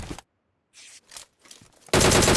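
Burst of automatic gunfire in the PUBG battle royale shooter, a short clipped shot near the start, brief quiet and faint game sounds, then a loud dense volley of rapid shots to the end.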